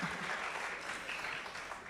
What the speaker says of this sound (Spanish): Un aplauso de todos, dándole la bienvenida a David